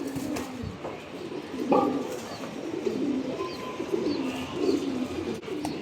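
A pair of Giribaz coloring pigeons coo nearby in soft, rolling bursts, with a few brief louder notes and faint background noise between them.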